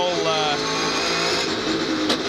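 Touring race car engine revving on the straight at Sandown Raceway in the 1999 Shell Championship, a loud sustained high engine drone under commentary.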